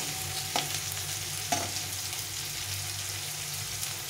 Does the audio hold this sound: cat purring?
no